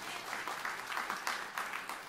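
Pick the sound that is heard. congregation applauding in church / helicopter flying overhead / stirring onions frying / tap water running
congregation applauding in church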